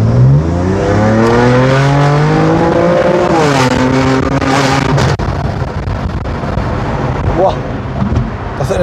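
A BMW M2 Competition with a full Akrapovic exhaust revs hard and loud, its pitch rising and falling in sweeps, then settles into a rough, throaty rumble close by.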